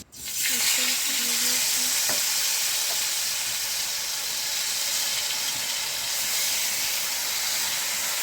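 Steady, close sizzle and hiss of potato chops frying in hot oil in a home kitchen, unbroken for the whole stretch, with faint clinks early on.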